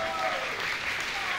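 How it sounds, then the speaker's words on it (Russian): Audience applause for a dance couple fills the whole short stretch as a steady, dense clapping wash. "Аплодисменты паре."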